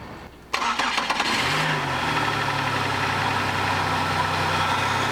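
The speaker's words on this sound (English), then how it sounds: "I'm gonna go start the car." Car engine cranking and catching with a sharp start, then settling into a steady idle close by while a multimeter is hooked to the battery terminals during an alternator test, with no talk.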